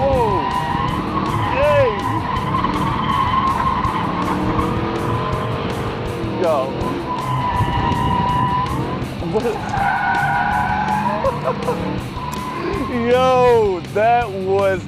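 A high-powered American car accelerates hard and skids, with roaring engine, repeated squealing tire chirps and a sharper skid near the end; excited voices talk over it.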